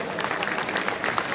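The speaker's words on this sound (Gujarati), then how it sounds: "તાળીના ગગડાટથી વધાવો" An audience claps steadily in a hall at a community fundraising event in Leicester, a dense, continuous patter of many hands with no break across the short stretch.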